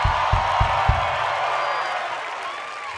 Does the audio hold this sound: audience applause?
yes